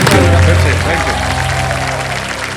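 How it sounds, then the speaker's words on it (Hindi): A studio audience claps loudly at the start of a televised Hindi quiz show, the dense applause steady and near, fading slightly toward the end with voices mixed into the noise. "जोरदार तालियां बज जाए फिर से"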